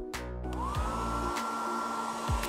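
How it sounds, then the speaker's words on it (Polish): A hair dryer blows steadily to melt a block of frozen water, a loud continuous whooshing whine with a rising motor pitch at switch-on and small clicks along the way. "Suszarką do włosów."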